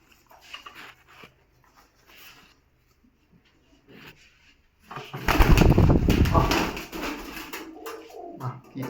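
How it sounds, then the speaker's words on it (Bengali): Teddy pigeons released by hand, with a sudden loud burst of wing flapping and rustling after several seconds of quiet handling sounds and faint murmurs. "কবুতর দুটো একটু ছেড়ে দেখাই।"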